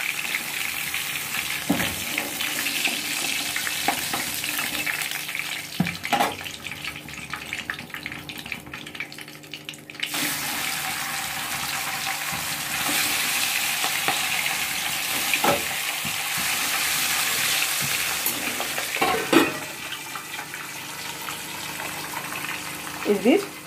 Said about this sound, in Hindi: इसी तरह से हम लोग बाकी की मछलियाँ भी फ्राई करके निकाल देंगे।